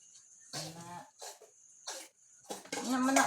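A child coughs in several short, harsh bursts spaced unevenly, close to the microphone and fairly loud, with a little voicing in the final cough.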